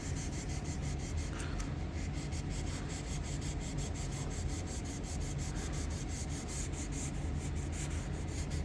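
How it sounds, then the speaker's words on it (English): Fine 400 grit sandpaper rubbing against the back springs and brass liner of a rusty knife, a soft, steady, rhythmic scraping of repeated strokes, faint and close with no talk. "This is 400 grit sandpaper, and just touch up these back springs just a little bit."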